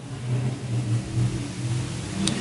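Race cars circling a dirt oval raceway at a fun night heat, a steady droning engine roar carried from a distance with slight swells as they run down the back straightaway, continuous and moderately loud.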